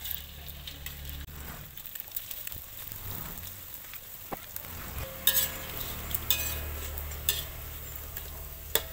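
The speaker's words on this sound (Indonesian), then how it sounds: "Goreng roladene dhisik." Sliced rolade frying in a pan for a sweet-and-sour dish, a steady close sizzle with stirring scrapes and a few sharper spits partway through, no talking.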